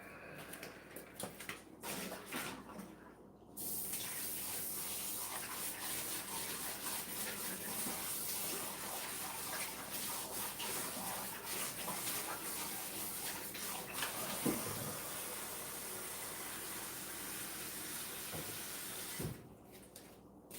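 A kitchen tap runs in a loud, steady gush to refill a pet's water bowl, with a few clinks and handling noises before the flow starts and as it cuts off near the end.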